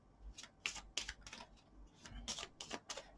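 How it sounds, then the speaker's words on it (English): Kabbalah cards being shuffled by hand, a run of short crisp riffling snaps and flicks in uneven bursts, close and fairly quiet, with no speech. "So let's shuffle and pull out 3 cards to see what your next chapter is."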